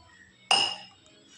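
One sharp clink of drinking glasses knocking together rings out and fades quickly, set against a quiet room.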